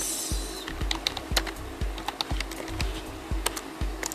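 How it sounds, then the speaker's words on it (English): Fast, light clicking of typing on a computer keyboard, with a steady run of close keystrokes and a few heavier taps, no talk. "I'm just typing it."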